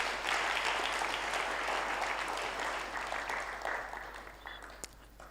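An audience at a national stakeholders' forum on housing claps steadily for a professor, a dense, sustained round of applause that slowly tapers off.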